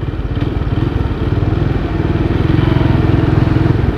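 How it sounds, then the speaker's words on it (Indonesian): A motorcycle engine rumbles loudly and steadily close by on a city street at night in Klaten, Indonesia, its low throbbing putter holding for several seconds as it passes. "ada motor lewat."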